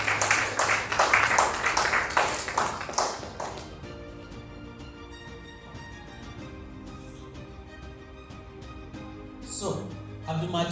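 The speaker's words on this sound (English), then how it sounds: "let us give a round of applause to Abdulmajid while he comes to talk about the API security" An audience at a developer circle event applauds a speaker named Abdulmajid as he comes up to talk about API security, with loud sustained clapping for several seconds that tapers off, followed by room sound and faint taps.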